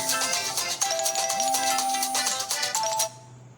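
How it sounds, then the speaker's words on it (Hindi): A phone ringtone plays close by as a simple electronic melody of steady, sliding tones for about three seconds, then cuts off abruptly, interrupting a chemistry lecture. "किसका फोन आ जाने के कारण कुछ इंटरप्ट हुआ।"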